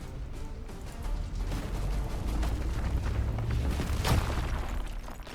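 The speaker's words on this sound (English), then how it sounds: "Let's give this a good old rock explosion here." A rock explosion spell in RuneScape: Dragonwilds sets off a deep, rumbling boom that rolls on steadily amid gritty crackling, with a sharper burst near the end.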